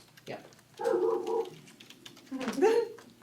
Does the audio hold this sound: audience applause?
no